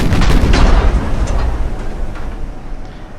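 Heavy guns on a warship fire in the naval video game Ultimate Admiral: Dreadnoughts, a run of deep booming blasts that roll into a rumble and fade out, loud and close.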